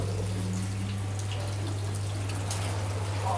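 Running water at an outdoor fountain, a steady close splashing rush that stays even throughout, with a low constant hum beneath it.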